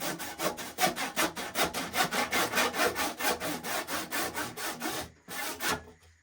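A pipe being sawn by hand, heard up close: fast, even back-and-forth rasping strokes run for about five seconds, then a short pause and a couple more strokes.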